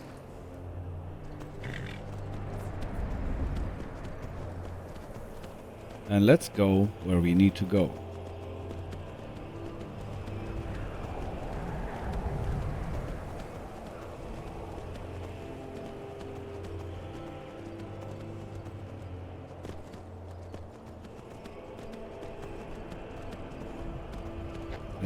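Hooves of the horse Frost clip-clopping in the video game Skyrim, a rhythmic gallop that rises and falls while someone talks over it throughout.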